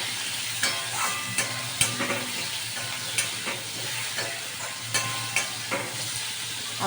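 Potatoes fry with turmeric in a home kitchen pan, giving a steady close sizzle with sharp stirring scrapes and clicks at irregular moments throughout.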